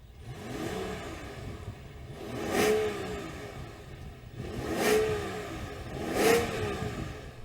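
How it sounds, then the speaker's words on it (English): A BMW 760 V12 engine idles with a low rumble and is revved three times, each rev swelling and falling back, heard up close without talk. "Can you let me hear your engine,"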